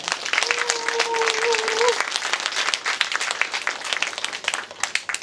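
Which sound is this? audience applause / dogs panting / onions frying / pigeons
audience applause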